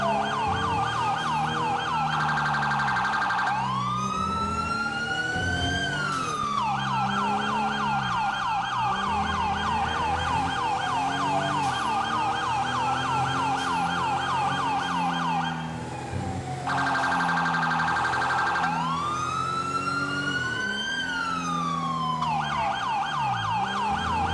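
A police car siren wails nonstop in a GTA roleplay game, loud and close, cycling through rising and falling sweeps and switching patterns several times over a steady engine drone.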